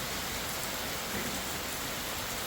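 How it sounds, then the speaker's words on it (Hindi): Heavy rain pours in the Himachal mountains, a dense, loud, unbroken hiss of drops on surfaces, close by and steady with no voices. "बारिश और तेज़ हो रही है"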